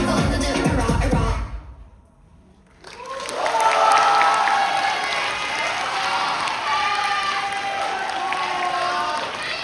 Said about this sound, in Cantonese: 掌聲俾